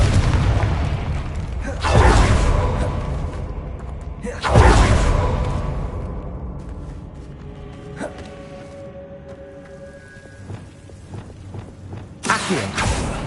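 Confringo fire spell explosions in a video game: two loud booming blasts a few seconds apart, each fading into rumbling debris and creaks, then a third burst near the end.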